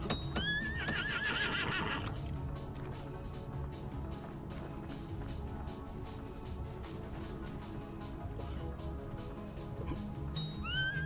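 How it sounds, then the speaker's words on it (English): A horse in the video game Vintage Story neighs in a loud whinny at the start, followed by steady clip-clop hooves and game ambience, with another short whinny at the end. "May have to hunt this horse real quick"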